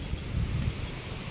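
Strong wind gusts across the microphone outdoors at a farm, making a brief, low buffeting rumble.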